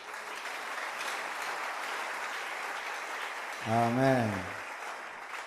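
Church congregation at a Sunday service applauding, steady dense clapping throughout, while someone briefly speaks over it near the end.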